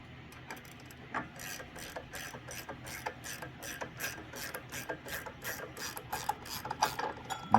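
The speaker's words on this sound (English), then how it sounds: "I just used a ratchet wrench with the other to back this bolt off of the crankshaft" A ratchet wrench backs a bolt off the crankshaft of a Coleman RSV 200 engine, giving a steady run of close, sharp pawl clicks in a quick, even rhythm that grows louder toward the end.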